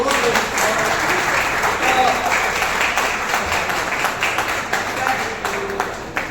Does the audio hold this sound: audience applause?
yes